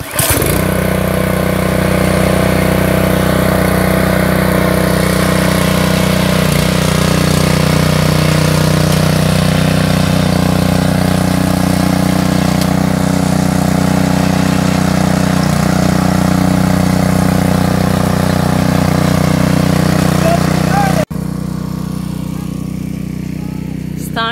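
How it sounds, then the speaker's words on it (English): A Champion 212cc garden tiller engine runs with a steady, loud, close drone, then drops away sharply in the last few seconds. "For a first-time user of Champion 212 tiller. 212 cc."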